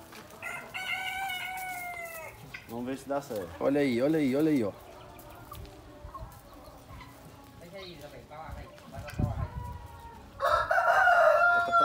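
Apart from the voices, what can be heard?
free-range chickens on a farm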